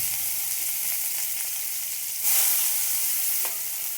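Onions frying in a pan, a loud continuous hiss of hot oil with a brief surge of stronger sizzling partway through and faint stirring.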